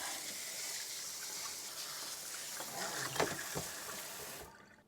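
A steady hiss of water spraying hard through the filter of a Mitsubishi ductless air conditioner for several seconds, close and fairly loud, then stopping abruptly.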